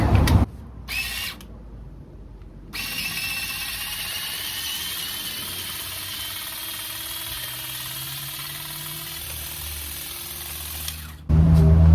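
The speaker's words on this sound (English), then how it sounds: "So for trimming grass, you use this shorter blade" A battery-powered grass trimmer whines steadily for several seconds as it cuts backyard grass, close and fairly loud, after a few short start-stop bursts and before a brief final restart.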